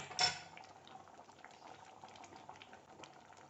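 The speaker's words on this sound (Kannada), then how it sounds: "ಚೆನ್ನಾಗಿ ಕುದೀತಾ ಇದೆಯಲ್ವಾ? ಇಷ್ಟು ಕುದ್ರೆ ಸಾಕು." Udupi-style brinjal and lentil curry bubbling steadily in a pot, a soft continuous simmer with one brief clink of a utensil at the start.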